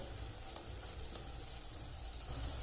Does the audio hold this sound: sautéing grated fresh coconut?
yes